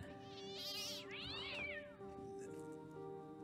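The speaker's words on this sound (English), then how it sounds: "It's just a cat." A cat in the video game Fran Bow meows in a long, drawn-out, rising and falling cry over a steady droning game soundtrack, loud and close.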